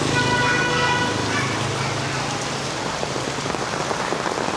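Heavy rain pours steadily during a storm in Da Nang, Vietnam, a dense, loud wash of drops hitting surfaces, with faint traffic and a brief horn toot in the background.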